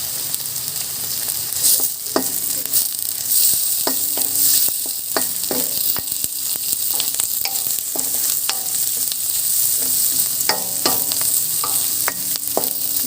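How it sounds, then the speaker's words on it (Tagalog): Steady sizzling of red bell pepper, onion and garlic frying in hot oil, with repeated scraping and stirring clicks of a utensil against the pan, close and continuous. "Lutuin muna natin yung ating bell pepper kasama ng ating sibuyas at bawang"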